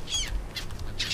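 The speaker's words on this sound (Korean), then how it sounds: "왜 있지 갈매기들?" Seagulls calling in the survival game Stranded Deep: three short, shrill squawks in quick succession, fairly close against a quiet background.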